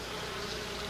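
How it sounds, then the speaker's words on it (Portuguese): Stingless native Brazilian urussu bees buzz in a dense, steady drone at close range, with no talk, while leftover bees are gathered from among the honey pots. "As abelhas que sobraram entre os potes de mel excedentes são recolhidas com este sugador."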